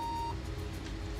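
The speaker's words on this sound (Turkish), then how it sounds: "monitör spikerından ilk buzzer sesimizi duyduk" A Pentium 4 era ECS P4VXAS2 motherboard buzzer sounding a RAM error beep: a single short, faint electronic tone at the start, then a quiet background hum.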